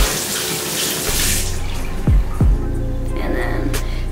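Water runs steadily from a kitchen tap while cupcake batter is being made, a continuous close hiss with a couple of brief splashy surges, no talking over it.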